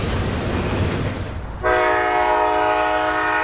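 An SD40 locomotive, formerly Burlington Northern, and an SD60E, originally Chicago and Northwestern, pass by. A broad rumble of the rolling train gives way to a loud, sustained multi-chime horn blast that holds steady to the end.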